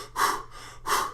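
A person takes two quick, audible breaths close to the microphone, showing shallow breathing, each a short airy rush with a brief pause between them.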